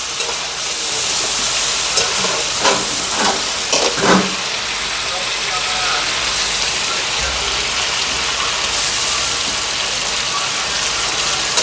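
Chicken fries in a pan for restaurant-style biryani, giving a steady, loud broadband sizzle throughout with a few brief stirring clatters early on.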